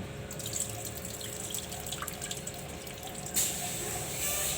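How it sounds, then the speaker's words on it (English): Tap water runs steadily into a sink while chili leaves are rinsed of dirt in a kitchen, a constant close splashing hiss with faint clinks, which grows brighter and louder near the end. "Then we're going to wash it again to remove all the dirt."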